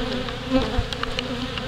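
Honey bees buzz around their hive, a close, steady insect hum with individual bees droning past briefly, no voices.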